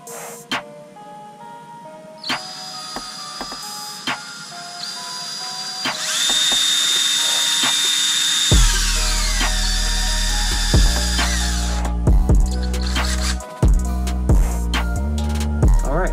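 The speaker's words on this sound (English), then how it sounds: "don't drill into any components or paste material behind the seal" A power drill bores out the shift shaft seal on a TTR 125 motorcycle, starting with whining high-pitched spin and building to a loud grinding drive, then stopping and restarting in short bursts.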